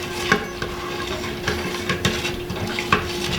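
A spoon stirs Italian seasoning into an Instant Pot, scraping bits off the bottom: close, irregular scrapes and knocks against the metal pot in a loose rhythm, with no talk.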